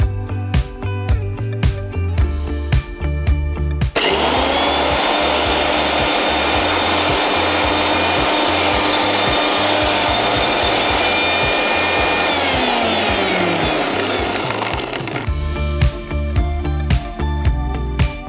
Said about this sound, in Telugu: అరటి దూట చిన్న చిన్న ముక్కలుగా కట్ చేసుకున్నాను సో దాన్ని మిక్సీ పట్టుకుందాము